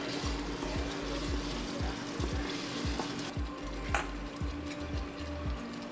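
Spices sizzling and frying in a pan while being stirred for prawn biryani, a steady loud crackle with rhythmic scraping strokes of the spoon throughout.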